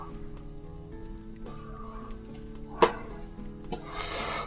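Raw meat roasting over a fire in the survival game Ylands, a soft steady sizzle with a faint crackle, punctuated by a sharp click and a brief burst of hissing near the end.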